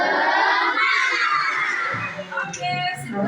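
A classroom full of children shouting and cheering together, loud and sustained, with a few claps and voices breaking through near the end.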